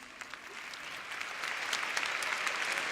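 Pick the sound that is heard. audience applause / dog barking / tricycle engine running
audience applause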